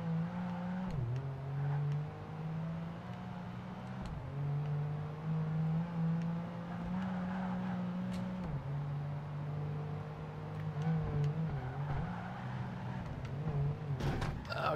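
Car engine in Project Gotham Racing 2 on the Edinburgh streets, a loud steady drone that climbs in pitch through the gears, dips at each shift and repeatedly revs back up, running continuously without pause.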